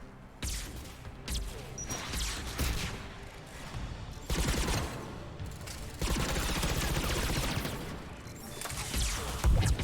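Intense firefights in Mass Effect 3 combat, with repeated bursts of automatic weapon fire and crashing impacts that come in dense waves, fairly loud and continuous across the whole stretch.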